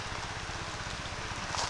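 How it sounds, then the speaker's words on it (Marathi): Steady rain falls through a short stretch, a dense continuous hiss with no voices over it. "पाऊस आला एक नंबर."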